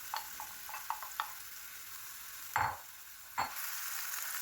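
Washed, chopped, steamed spinach sizzles steadily in olive oil in a frying pan, with a few light clinks and scrapes of stirring over the constant close frying hiss.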